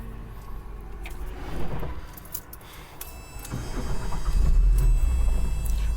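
A Porsche 944 cranks and starts back up after breaking down: keys jangle first, then the starter churns, and the engine catches and settles into a deep, steady idle that grows louder toward the end.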